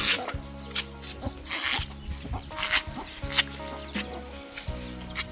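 Chickens cluck softly nearby while foraging for ants outdoors on a rural Thai property, with light scratching and pattering sounds in a quiet outdoor setting.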